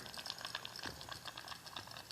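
Water boils in a glass flask on a stove, a faint steady bubbling and hissing simmer with small irregular pops throughout.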